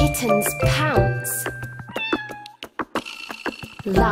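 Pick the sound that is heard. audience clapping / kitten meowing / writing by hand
kitten meowing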